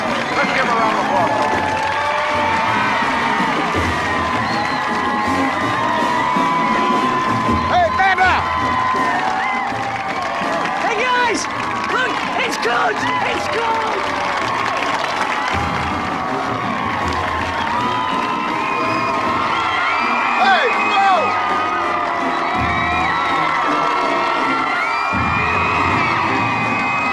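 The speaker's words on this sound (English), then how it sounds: "Let's give a round of applause." A crowd cheers, whoops and applauds for high school marching bands, including a sailfish marching band, a loud, continuous wash of shouting and clapping with children's voices and whistles mixed in throughout.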